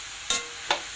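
Papaya being stirred in a cooking pot for ginataan with banana blossom and malunggay, two brief scraping swishes close by, separated by a short pause, with no talk.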